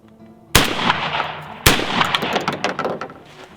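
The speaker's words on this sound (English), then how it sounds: "we're just going to shoot the gun as long as this thing holds up" A Winchester Super X shotgun, about 20 years old, fires two loud, close blasts roughly a second apart, each ringing out with a long echoing tail and rattling reverberation.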